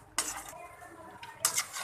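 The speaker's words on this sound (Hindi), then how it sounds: "ये देखें व्यूअर्स, मैं इसको भून रही हूँ" A spoon scrapes and clatters against a pot while Balochi chicken karahi is stir-fried, with two bright metallic bursts of stirring separated by a quieter stretch of faint sizzling.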